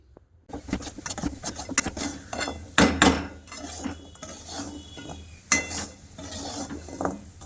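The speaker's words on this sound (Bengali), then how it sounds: "দিয়ে এবার চামচ দিয়ে নাড়তে থাকবো" A spoon scraping and clattering against a pan while stirring thickened sugar syrup off the heat, with irregular close knocks and scrapes at an uneven rhythm.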